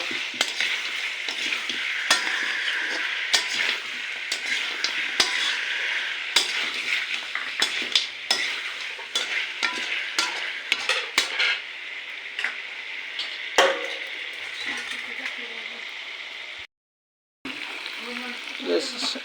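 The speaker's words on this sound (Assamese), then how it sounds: "আলুটো অকণমান ফ্ৰাই হ'ব লাগিব।" Potatoes fry with meat in a pan, giving a loud, constant sizzle broken by frequent sharp scrapes and taps of a spoon stirring against the metal. One brief pause cuts the sound near the end.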